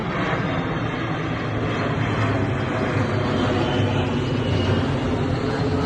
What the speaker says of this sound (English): We'll wait for the plane.